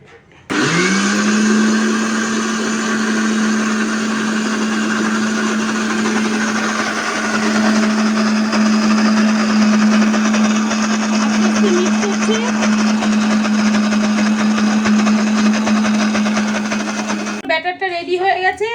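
A kitchen mixer grinder whirs steadily for about sixteen seconds, loud and close, while grinding soaked lentils into batter paste, then cuts off abruptly at the end.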